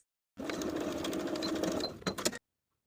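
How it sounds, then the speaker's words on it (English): A sewing machine stitches vertically along the edge of a blouse tie at a 3/8 inch seam allowance, giving a steady close whir for about two seconds before stopping, with no talking. "We're going to sew vertically along the edge of the tie with a 3/8 inch seam allowance."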